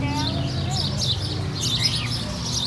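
Small pet bird at a fruit stand in Florida City giving faint, high chirps and tweets over a steady low background hum and murmur of people nearby.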